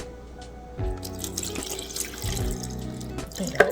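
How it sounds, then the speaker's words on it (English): Water pours into a blender jar holding chopped ginger for a ginger shot, a close trickling and splashing stream in two main bursts with small drips between. "And I am going to be adding some water"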